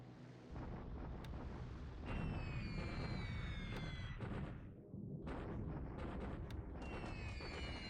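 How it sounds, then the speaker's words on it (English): Heavy bombers strike an airfield in War in the Pacific with booming blasts and rumbling explosions. Loud bursts come in quick succession over a sustained roar, with a brief drop near the middle. "The heavies are hitting this airfield here."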